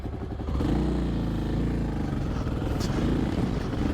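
A Kawasaki KLX 300 dual sport motorcycle riding an off-road trail, its engine droning steadily and close with throttle swells and loose clatter from the terrain.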